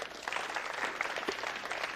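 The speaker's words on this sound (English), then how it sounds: "It's a big round of applause for Greg." A crowd claps for a basketball player after good shooting at a training session, a steady, dense round of applause filling the whole moment without pause.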